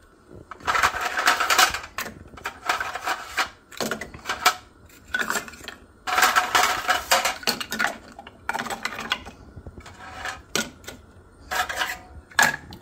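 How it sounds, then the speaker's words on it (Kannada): Metal clanks and clatters of cookware as a lid goes onto a cooking pot while stuffed shell pasta is being made, in several sharp bursts separated by short pauses, with no talk. "ಈಗ ಮುಚ್ಚಳ ಹಾಕ್ತೀನಿ. ಮುಚ್ಚಳ ಹಾಕಿದ್ದೀನಿ."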